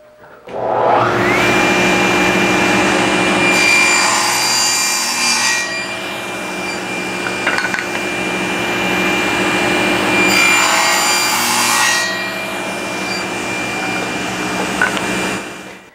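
A table saw blade set 3/16 inch high cuts the shoulders of wooden tenons in two loud, sustained passes, each a steady whining rip with a quieter motor hum between them.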